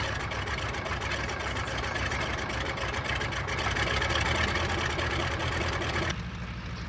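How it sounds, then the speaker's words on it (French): A cartoon Stearman biplane engine warms up with a steady, continuous idling drone that stays even for several seconds, then drops slightly near the end, with no talking. "Je suis en train de réchauffer mon moteur."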